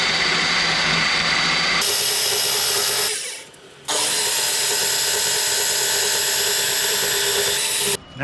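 A power tool cuts through a piece of metal in a garage, running loud and steady for several seconds, then briefly dropping out before starting again, with a short pause near the end.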